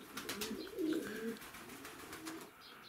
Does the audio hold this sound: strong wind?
no